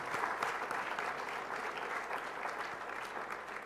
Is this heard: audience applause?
yes